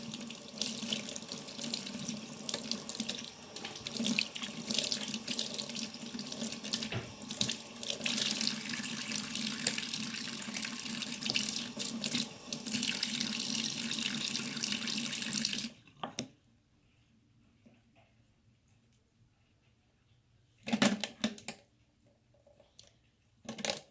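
Tap water runs steadily into a sink while paintbrushes are washed, loud and continuous for about sixteen seconds, then cuts off, leaving a brief splash and near-silence.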